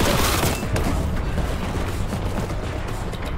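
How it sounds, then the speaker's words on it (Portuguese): Grenade blasts and gunfire in the shooter game Warhammer 40,000: Boltgun, a loud opening burst followed by a dense rattle of booms and shots across a few seconds. "Granada até que matou todo mundo aqui."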